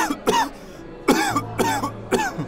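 A hospital patient with a respiratory illness coughs in three sharp, harsh bursts, each a rapid double or triple hack, close and loud with brief pauses between, in a crowded respiratory clinic.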